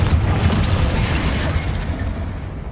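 A Confringo fire spell blasts in Hogwarts Legacy, a loud booming burst with a dense low rumble that holds steady and slowly fades in a tomb, with no talk over it.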